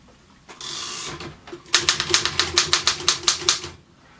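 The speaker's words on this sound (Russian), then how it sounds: "Удар по клавишам при печати должен быть легким, четким, отрывистым." Typing on a Royal KMM manual typewriter: a brief mechanical rustle, then a quick, even run of about a dozen crisp, close key strikes in a steady rhythm.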